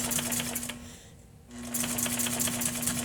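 A sewing machine runs a back stitch on a box cushion, a steady rapid mechanical whir that pauses briefly mid-clip and then resumes, with a constant hum underneath.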